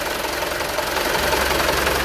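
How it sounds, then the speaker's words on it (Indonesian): The diesel engine of a used Mitsubishi Canter truck runs at idle, loud and close, with a dense, rattling knock and steady vibration throughout and no voices. "Ini mesin udah tak nyalain"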